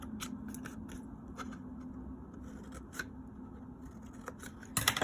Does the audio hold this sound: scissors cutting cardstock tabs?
yes